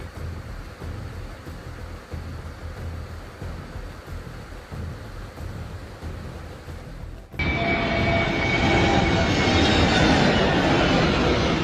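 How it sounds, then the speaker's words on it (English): A nearby aircraft sweeps close past as seen through a passenger window, a steady cabin drone suddenly giving way to a loud, broad roaring rush that holds for several seconds. "Through the passenger's window, another aircraft closes at alarming speed."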